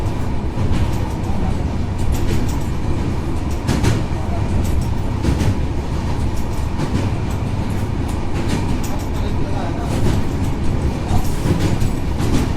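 A Shatabdi Express rolls along inside the Vistadome coach, a loud, constant rumble with rhythmic wheel clatter and rattles, and voices intermittently murmuring over the running noise.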